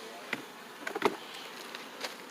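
A steady swarm of honey bees drones close by around their hive, with a few soft knocks and brief louder buzzes as individual bees pass near.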